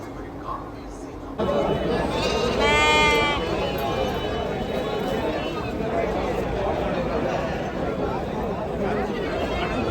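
Goats bleat at a busy outdoor goat market in Melapalayam, Tirunelveli; one loud nearby bleat rises over a dense background of crowd chatter and voices.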